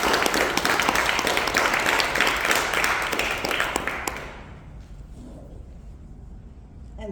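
Audience at a library poetry reading applauding to welcome the readers, dense clapping for about four seconds that then fades to a quiet room.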